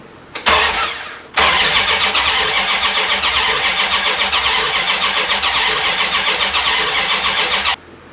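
A Chrysler big block V8 in a Prospector swap cranks briefly, pauses, then cranks steadily with the distributor unplugged, a loud rhythmic starter churn running nearly eight seconds before stopping abruptly.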